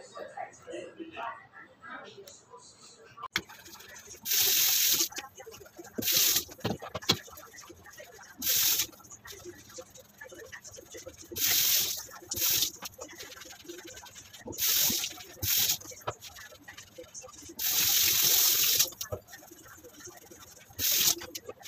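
Eggs are washed under a running kitchen tap, with bursts of splashing water starting and stopping repeatedly, close by, alongside faint handling sounds and a voice talking between the pours.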